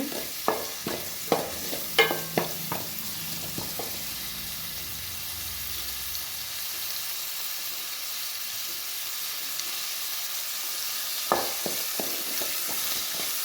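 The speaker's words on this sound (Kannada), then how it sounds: "ಸ್ವಲ್ಪ ಒಂದು ಐದು ನಿಮಿಷ ಫ್ರೈ ಆಗಲಿ ಈರುಳ್ಳಿ ಎಲ್ಲ ಸ್ವಲ್ಪ ಸಾಫ್ಟ್ ಆಗಲಿ" Onions frying in a pan for carrot palya, with a run of sharp spatula clicks and scrapes at first, then a steady low sizzle, and a few more stirring knocks near the end.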